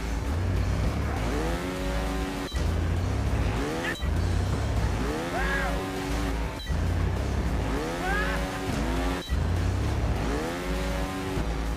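A trials motorbike engine in the Trials Fusion video game revs continuously, rising and falling in repeated surging sweeps punctuated by sharp clicks, loud and steady throughout.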